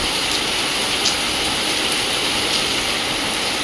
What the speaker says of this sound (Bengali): সামনাসামনি পুরো মানে সত্যি অতিরিক্ত বৃষ্টি হচ্ছে